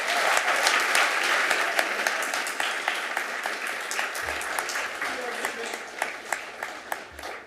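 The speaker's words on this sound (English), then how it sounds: "So, round of applause for the boys." Applause at a Costa Mesa city council meeting for a boys' varsity team, dense at first and then thinning into scattered individual claps toward the end.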